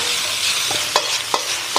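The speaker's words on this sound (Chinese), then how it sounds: "大火快速翻炒" Shredded pork with bean sprouts and pepper strips stir-fried in a wok over high heat, a steady sizzle broken by three sharp metallic scrapes of the spatula, close by.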